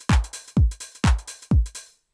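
A re-pitched TR-909 drum sample in Ableton Live plays four punchy kick hits at an even pulse, each a deep booming thump with a quick decay, clean and alone.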